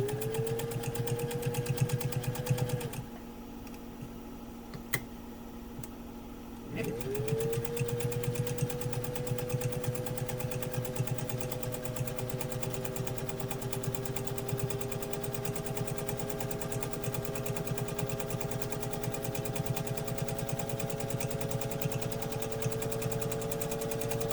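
A 1955 Singer 201-2 sewing machine motor whirs at a steady pitch, drops out for a few seconds, then spins back up and keeps running evenly, close and fairly quiet in a cold room.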